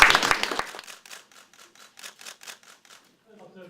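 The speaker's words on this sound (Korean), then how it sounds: "박수를 다시 한번 부탁드립니다" A burst of audience applause at a signing ceremony for an education agreement starts loud and thins into scattered claps before fading out, then a voice begins speaking.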